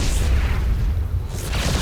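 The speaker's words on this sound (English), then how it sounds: "Yamamoto cannon" A Yamato cannon fires in StarCraft 2 at pylons, a sustained heavy low boom rolling through nearly two seconds at steady loudness, with no talk over it.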